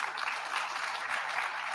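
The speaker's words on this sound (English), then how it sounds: "A round of applause," A summit audience gives a brief burst of applause at a G20 Social Summit session, a steady, even wash of many hands clapping with no talking over it.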